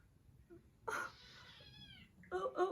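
A new kitten gives a short meow up close, followed by a second brief, brighter mew, with no talking over it.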